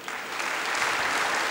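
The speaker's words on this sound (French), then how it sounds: "applaudissements" Warm applause from a crowd at a closing Mass, a thick even roar of many clapping hands that builds slightly and holds steady throughout.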